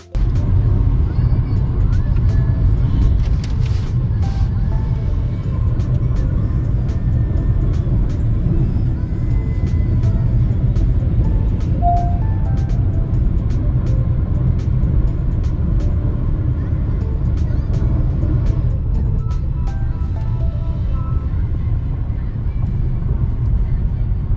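Car cruising on a highway near the Bahadurgarh–Rohtak road, a steady loud low rumble of engine and tyre roar from inside the cabin, continuous with faint passing-traffic swells and no break.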